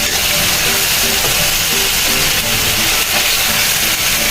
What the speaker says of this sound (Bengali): এখন পেঁয়াজটা ভেজে নিলাম আর এই যে মশলা দিব।